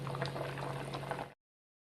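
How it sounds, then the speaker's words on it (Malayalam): Vanpayar payasam bubbles in a pot at a steady simmer, a close, soft gurgling with no voices, cutting off abruptly after about a second. "ഇവിടെ നിന്ന് തിളച്ചുകൊണ്ടിരിക്കുന്നുണ്ട്"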